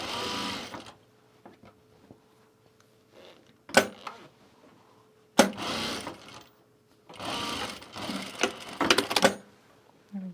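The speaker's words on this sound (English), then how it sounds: "Now let's top stitch it." Sewing machine top stitching a garment duffle bag, close and clear, running in several short bursts of rapid whirring stitches separated by pauses with faint handling noises.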